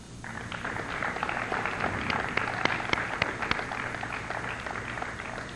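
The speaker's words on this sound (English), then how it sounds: "Let's give them a hand, please." Graduation audience applauding, a steady wash of many hands clapping in a large space, moderately loud and continuous throughout.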